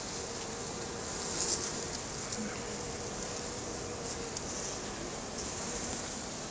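Honeybees drone continuously around an open top-bar barrel hive during an inspection of fresh wax comb, a dense, steady buzz close by with occasional louder passes and no talking.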